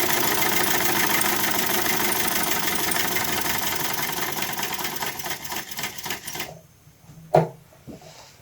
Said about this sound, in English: we're going to let the air compressor run out and have that run